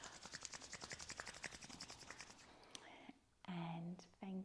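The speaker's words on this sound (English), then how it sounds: "Or rub the palms together." Palms rub together in a quiet room at the close of a somatic yoga session, giving a soft, rhythmic whooshing friction for a couple of seconds before a brief low murmur of voice.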